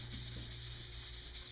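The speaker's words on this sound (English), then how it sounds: "once we've sanded it to the point, like I said, we have our desired smoothness, the finish that we're looking for on the shaft" A wooden arrow shaft is sanded with a steady back-and-forth rasping, close and continuous under a constant background hum, with no speech.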